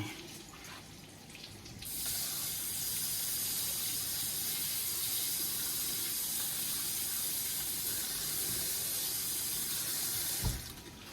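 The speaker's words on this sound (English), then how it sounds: "I had to rinse that cabbage off." Kitchen tap running steadily over cabbage in a sink, a constant hissing splash that swells loud after a quieter start and holds for about nine seconds, with a brief knock near the end.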